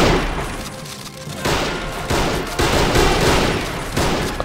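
Dense, loud volleys of rifle fire from a line of toy soldier riflemen in the Army Men of War strategy game, shots overlapping in continuous bursts with brief shifts in intensity.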